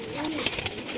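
A Sialkoti pigeon coos briefly up close, a soft throaty call with a couple of pulsing accents over faint background noise.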